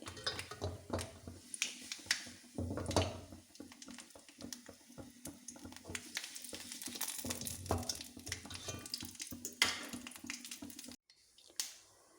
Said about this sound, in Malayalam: ഉള്ളി, വറ്റൽമുളക്, കറിവേപ്പില, കടുക് എല്ലാം പൊട്ടാറായി.